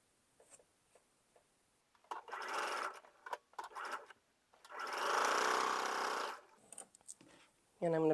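A sewing machine stitches a row of a pieced quilt block, running in several short bursts and then one long steady run of about two seconds, its motor whirring close and clear with brief pauses between.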